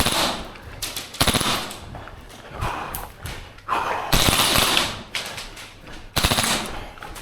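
A Krytac Maxim 9 airsoft gun fires rapid full-auto bursts, its BBs ricocheting with sharp clattering impacts; several short bursts separated by brief pauses, close and loud, with no speech.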